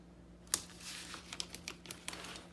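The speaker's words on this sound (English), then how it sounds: "I'm just putting score tape on around it." Score tape being cut and pressed onto scrapbook paper, a sharp snip followed by a quiet run of crinkly, tacky crackles and small taps, close and soft with a faint background hum.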